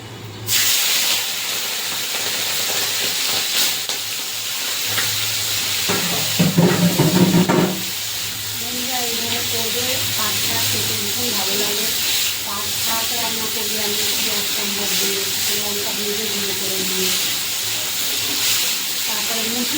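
Salted shrimp dropped into hot oil seasoned with five-spice, a loud burst of sizzling that settles into a steady crackling fry, with a person talking over it.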